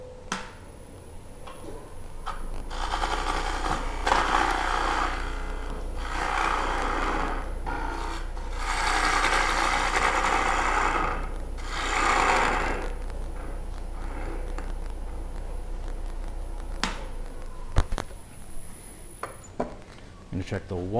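A wood lathe tool cutting a natural edge bowl scrapes in rising and falling passes over a low motor hum, near and fairly loud, ending with a few light taps.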